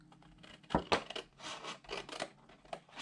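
Paper for a craft gift box being cut straight with a blade or scissors, close and quiet crunching and snipping with a couple of sharper clicks, alone without talking.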